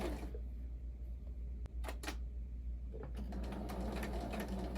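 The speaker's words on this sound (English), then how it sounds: "I'm going to continue a straight stitch down the whole length of the pocket" Sewing machine running a straight stitch down the full length of a pocket seam on a crochet babydoll dress, a steady near whirring with short pauses and restarts, heard alone without talk.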